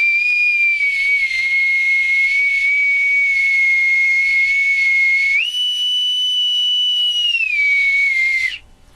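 A bosun's whistle, or sailor's pipe, blown in one long shrill steady tone that jumps higher partway through, glides back down and then cuts off, loud and alone.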